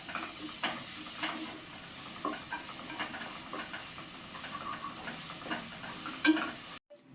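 Steady sizzling of ginger and garlic frying in a pan for goat head meat curry, with occasional stirring scrapes and clicks, close and continuous, no voices.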